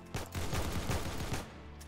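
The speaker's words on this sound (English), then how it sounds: "A minigun." A minigun fires in the Roblox game ARC, a dense, continuous rattle of rapid shots lasting over a second before cutting off, heard fairly loud in a gameplay mix.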